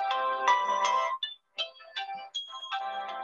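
A mobile phone rings with an incoming call during a lecture on Stalinist-era Hungarian political humor, a melodic electronic ringtone repeating in bursts with brief gaps, loud and close.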